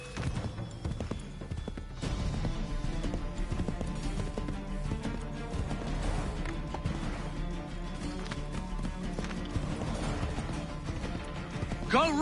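Horses galloping in Assassin's Creed 3 Remastered, a steady dense clatter of hooves running continuously and loudly through the whole stretch, mixed with game music and ambience, with voices speaking over it.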